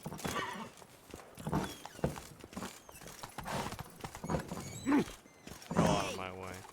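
Hooves of Roach, a horse in the game The Witcher 3, clatter in an uneven galloping rhythm with a whinny near the end, mixed with game noise and a voice speaking briefly.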